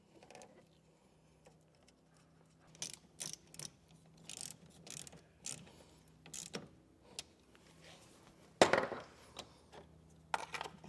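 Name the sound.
tightening a nut onto a wiring ring terminal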